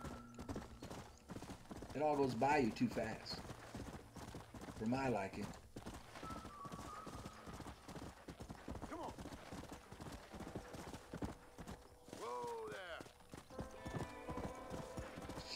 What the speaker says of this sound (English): if you take your horse into full gallop